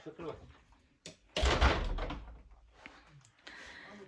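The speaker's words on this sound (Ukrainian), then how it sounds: "Я закрию двері, бо вас чути." An interior door in a freshly renovated house with tiled floors, pushed shut with a solid thump and rattle partway through, amid speech before and after.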